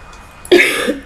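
A single harsh cough from a person seated near the microphone, one loud burst that trails off briefly into quiet.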